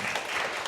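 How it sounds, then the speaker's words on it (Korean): Applause from a church congregation at a Korean-language Thursday worship service, a dense, steady wash of clapping throughout a short moment, moderately quiet and without talk. "큰 감사의 박수를 보내드리겠습니다"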